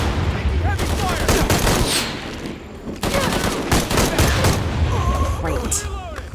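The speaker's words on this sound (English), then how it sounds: "Taking heavy fire!" Heavy gunfire in the video game Shadow of the Tomb Raider, with rapid bursts of shots and sharp cracks overlapping into a dense, sustained barrage amid other combat sounds.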